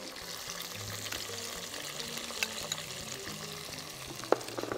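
Onion and garlic frying in a pan, cooking with tomato concentrate, give a steady close sizzle and crackle throughout, with a brief sharp clink of a utensil near the end.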